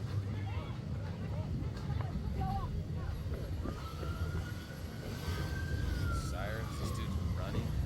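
Emergency vehicle siren wailing in a long rising and falling tone somewhere in the distance near a helicopter crash scene, faint under steady background noise and scattered voices.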